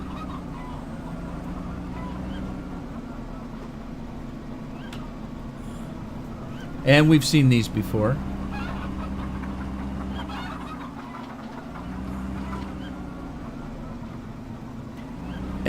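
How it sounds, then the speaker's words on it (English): Brief honking and clucking of geese and chickens in the Farming Simulator 15 video game bursts out over a steady background hum, with someone speaking briefly. "You can grow geese, fattened geese here. And we got your chicken farm."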